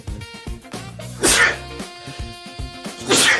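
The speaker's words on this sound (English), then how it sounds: "I'm going to sneeze." A single loud sneeze bursts out after some music-like tones, followed by a brief lull and a second sneeze-like burst near the end.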